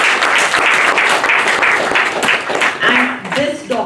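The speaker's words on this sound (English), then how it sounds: "Big round of applause for resilient Preeti" Audience applause at a motivational talk or workshop, a dense steady wash of clapping across the whole stretch, with a voice speaking briefly near the end.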